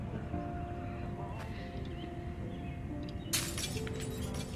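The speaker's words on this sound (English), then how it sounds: "I think they're far enough they won't hear me clear the glass." Window glass smashed and cleared in the Project Zomboid video game, a sudden bright crash of shards after a few seconds of low background game ambience, moderately loud and continuing as scattered breaking bits.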